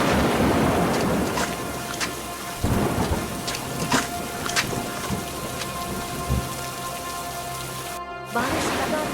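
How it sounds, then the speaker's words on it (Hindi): Heavy, steady rain pours over a flooding village during a thunderstorm, with loud rolling thunder cracks breaking through the downpour; the roar cuts out briefly near the end, then resumes. "बारिश लगातार तेज होती जा रही थी।"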